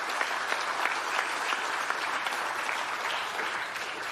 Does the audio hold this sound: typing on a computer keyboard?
no